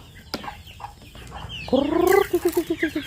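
Chickens cluck nearby in a quick rhythmic series while being fed, with one longer rising call among them and soft rustling in the background.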